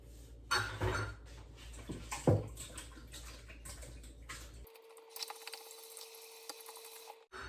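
Egg clusters being rinsed in water in a home kitchen: a few splashy sloshes and clatters early on, then a steady quiet trickle of running water, fairly close and soft.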